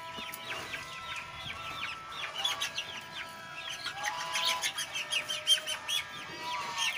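Chickens cluck and chirp repeatedly at close range, a busy overlapping stream of short calls with a louder burst of clucking toward the end.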